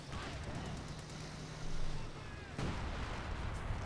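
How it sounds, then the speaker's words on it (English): Artillery fire rumbles in the real-time strategy game Company of Heroes 2, a continuous heavy barrage of booms with one sharper blast partway through, loud and dense throughout. "More artillery called down here."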